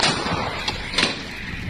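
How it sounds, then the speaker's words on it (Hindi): Artillery cannons fire during fierce street fighting in Kharkiv, heard as two quick, sharp booms over a dense, continuous roar of battlefield noise. "ये आमने सामने की लड़ाई है और अब तोपों का इस्तेमाल हो रहा है"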